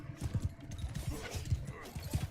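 Horse hooves gallop in Bannerlord 2, a steady rhythmic thudding of repeated hoofbeats, moderately close and alone without talk.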